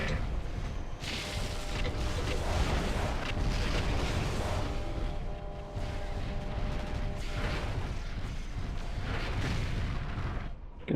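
Dense, continuous mech weapons fire and heavy booms rumble from the MechWarrior 4 video game, with mechanical hums layered throughout and no clear pauses.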